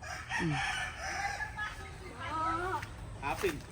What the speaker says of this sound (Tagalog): Ito po yung mga inahin.